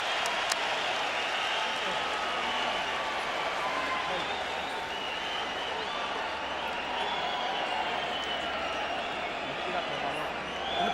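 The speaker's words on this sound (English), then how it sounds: "And the crowd rises to appreciate the intensity of this war." A large boxing crowd applauds and cheers in a sustained roar during a bout, with voices mixed into the noise throughout.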